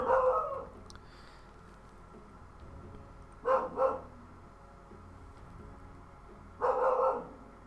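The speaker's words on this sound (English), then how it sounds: "Let me just go see what my dog's barking at." A dog barks in three separate bursts, a double bark near the start, another pair midway and a final cluster near the end, moderately loud against a quiet indoor background.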